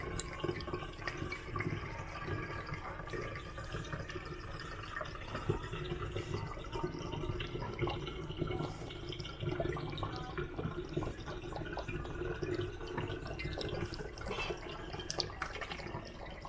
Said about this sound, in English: We're pouring this rum straight in